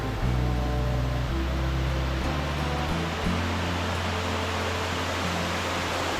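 A waterfall at Sohra (Cherrapunji) gurgles and rushes in a steady, dense wash of water noise, close and loud and unbroken throughout, with a low rumble beneath and no voices.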